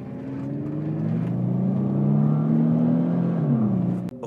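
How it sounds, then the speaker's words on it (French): A Renault Clio 4 RS engine revs with a smooth, droning tone that swells and holds steady, then dips sharply just before a brief click at the end. "On dirait un V8 le machin."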